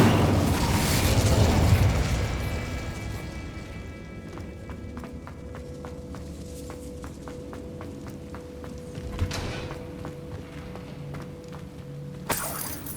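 Incendio fire spell cast in Hogwarts Legacy on PS5: a rushing burst of flame that fades into a sparse string of small pops and crackles, with a sharp bang near the middle and another near the end.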